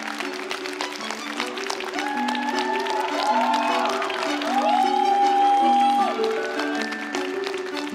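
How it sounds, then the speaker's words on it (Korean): An audience applauds after a wrestling match, with sustained clapping and crowd noise running throughout, partly under background music and tones. "많은 박수갈채가 쏟아지고 있는데요"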